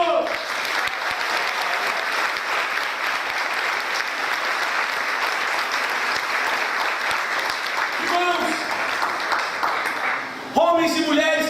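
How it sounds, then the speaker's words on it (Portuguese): A church congregation applauds throughout, a dense steady wash of clapping with a short pause near the end before it picks up again. "Aplauda o Senhor."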